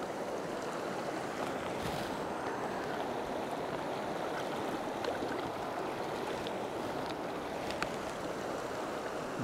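River water flows steadily through Cheesman Canyon in the fall, a continuous broad rushing wash close by with no pauses and no voices.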